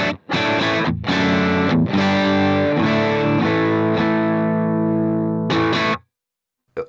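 Electric guitar through an Axe-FX 3 running the Dirty Shirley amp model with a cab block, heavily distorted chords and notes ringing out loud and sustained, then cutting to silence.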